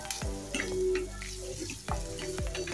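Finely chopped onion fries in a tempering of cumin, mustard seeds and garlic, a soft steady sizzle broken by a few clinks and scrapes of stirring, close and fairly quiet.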